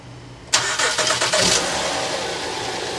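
A Honda Odyssey minivan engine cranks and catches just after a quiet start, revving briefly before settling into a steady idle, close and loud.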